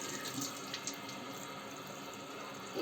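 Tap water runs steadily into a bathroom sink for face washing, a soft continuous splashing stream at close range with no talking.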